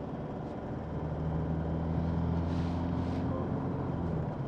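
Car with an Isuzu 4JJ1 engine and 6-speed automatic accelerating gently through the gears, a steady close engine drone with low rumble and wind noise throughout.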